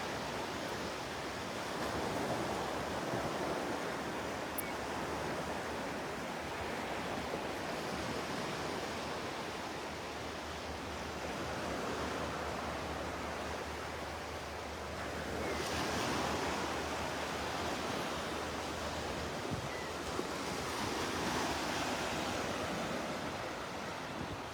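Ocean waves break on a beach at Delnor-Wiggins, a steady wash of surf rising and falling in broad swells with some wind noise, with no voices.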